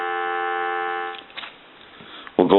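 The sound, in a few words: telephone dial tone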